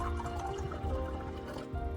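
Wine poured into a glass, a short close gurgling liquid fill with no voices over it.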